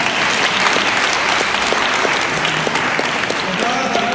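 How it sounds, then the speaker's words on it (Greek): An audience applauds children at a Greek community concert in Herten, with steady, dense clapping from a sizable crowd that fills the whole stretch at close range. "Ένα χειροκρότημα για τα παιδιά."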